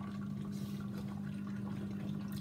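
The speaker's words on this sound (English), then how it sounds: "it's now draining the water" An LG washing machine drains water in a steady, faint rushing whoosh over a low continuous pump hum, unbroken throughout.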